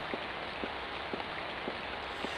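Steady rain hiss from the video game Clock Tower, a constant wash of falling water with soft, regularly spaced muffled thumps roughly every half second, moderately quiet and with no voices.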